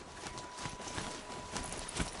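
Horse hooves clip-clopping at a walk in the Horizon Zero Dawn video game, a steady rhythmic series of clear hoof strikes over a constant background hum with no voice.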